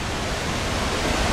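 Begbie Falls near Revelstoke roars as a steady, broadband rush of falling water, loud and unbroken, with no voices over it.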